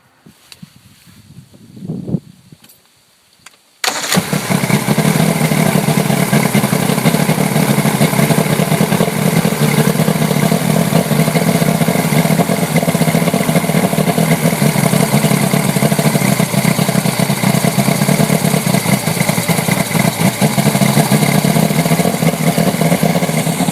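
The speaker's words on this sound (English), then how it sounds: "we can go ahead and run the engine and fog it" An Evinrude or Johnson outboard boat engine runs steadily and loudly while fogging oil is fed in during winterizing, starting abruptly after a few seconds of quiet handling noise and holding a constant, rough drone to the end.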